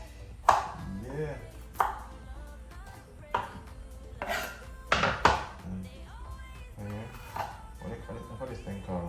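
A knife chopping hot pepper, seeds included, on a board while preparing Jamaican steamed fish, a series of separate close thunks at an uneven pace, with a person talking between the cuts.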